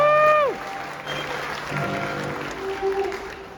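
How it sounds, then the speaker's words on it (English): Aboard a cruise ship at a captain's welcome party, an audience applauds the cruise director; a sustained electronic tone cuts off first, then a moderate, diffuse round of clapping follows, with a voice faintly underneath. "another round of applause for our cruise director"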